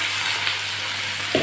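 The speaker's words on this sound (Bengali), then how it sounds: "তেল গরম হয়ে গেছে, মাছগুলো ভেজে নেব আমি।" Fish frying in hot oil in a home kitchen, a steady broadband sizzle that holds throughout and swells briefly near the end, close and moderately loud, with no voices.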